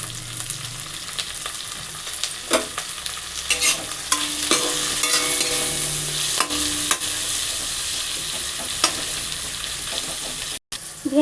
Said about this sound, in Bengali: এইভাবে ভেন্ডিটা ধীরে ধীরে ভেজে নেব